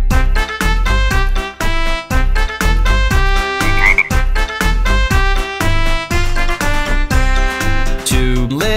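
Frogs croak in a children's nursery song, their loud rhythmic croaks woven through bright, busy music.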